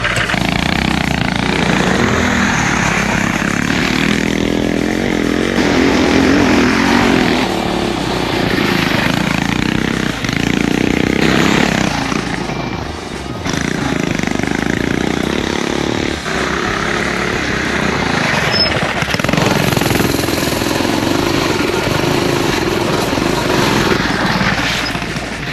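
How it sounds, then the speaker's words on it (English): A Coleman BT200X mini bike fitted with a Predator Ghost 212 engine runs steadily and loudly close by, its small-engine drone rising and falling slightly with throttle throughout, with no talking. "Let's put this Ghost 212 Predator engine in the Coleman mini bike and see what it can do."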